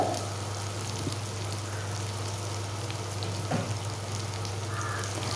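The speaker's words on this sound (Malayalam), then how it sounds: "ഇനി എണ്ണയിൽ നമുക്ക് നല്ലതുപോലെ ഇതൊന്ന് വഴറ്റിയെടുക്കാം അപ്പോൾ നമ്മൾ മീഡിയം ഫ്ലെയിമിലാണ് വച്ചിട്ടുള്ളത്" Raw mango pieces sautéing in oil over a medium flame, giving a continuous close sizzle with a few soft knocks from stirring and no speech.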